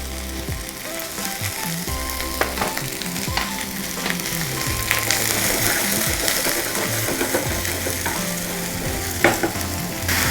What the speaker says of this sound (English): after sauteing the onions for 5 minutes, they are soft